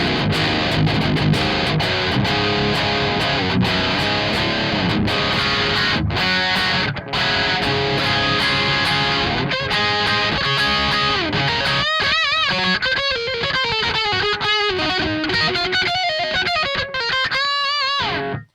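High-gain distorted electric guitar runs through an Audio Assault RVXX amp sim with a diesel cabinet impulse response: first tight, chugging palm-muted riffs, then sustained lead notes with vibrato. Loud and continuous, with no voices.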